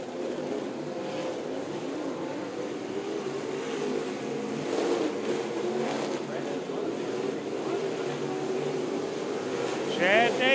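Modified race cars run a feature race at Creek County Speedway, with a steady, distant engine drone that swells slightly as the pack passes and a brief higher whine near the end.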